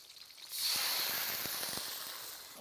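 Pork belly sears in a hot pan as Shaoxing yellow wine is splashed in, setting off a sudden loud hiss that holds steady and slowly eases, with a few light clicks underneath.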